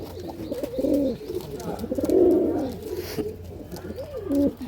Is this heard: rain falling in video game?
no